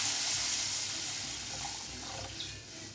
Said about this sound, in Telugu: ఇప్పుడైతే వాటర్ వేసుకోవాలి